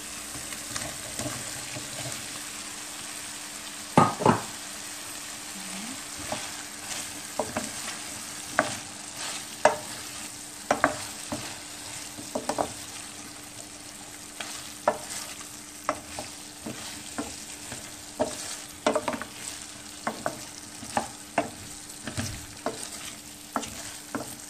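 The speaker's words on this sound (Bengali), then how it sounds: "আমি এখন কলিফ্লাওয়ারটা দিলাম" Cauliflower and potatoes fry in a pan, a soft steady sizzle broken by repeated scraping clicks and knocks of stirring at an uneven rhythm, close by, with no voices.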